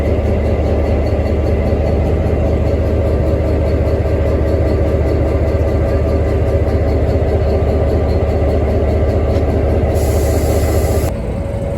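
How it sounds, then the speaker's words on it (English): Diesel locomotives idle close by at Ipswich workshops, a loud, steady engine drone with a continuous low throb that holds unbroken throughout, with no voices. "we met our locos, diesel locos, that will rescue us if we break down"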